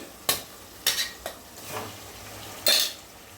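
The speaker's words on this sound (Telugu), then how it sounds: "ఇప్పుడు చక్కగా కలుపుకుందాము" A spoon scrapes and stirs tamarind chutney in a frying pan in five quick strokes at an uneven rhythm, close up, with a faint background of sizzling.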